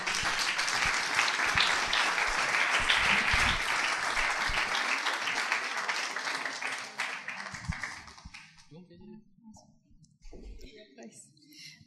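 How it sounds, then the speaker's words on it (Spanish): A church congregation bursts into loud, dense applause for the Lord that holds steady for several seconds, then thins and fades into scattered claps and quiet murmuring. "quiero que den un aplauso al Señor,"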